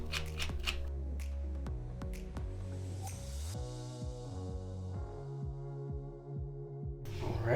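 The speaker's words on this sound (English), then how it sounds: "we will start removing these 4 screws here." Small screws being backed out of the back cover of a Samsung Gear Fit 2 smartwatch with a 1.2 mm screwdriver, heard up close as quiet repeated clicks, scrapes and faint ticking, with no one talking.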